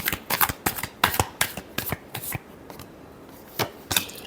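Tarot cards being shuffled, a quick run of crisp riffling slaps in a steady rhythm, then a pause and two final snaps, close and clear with no talking.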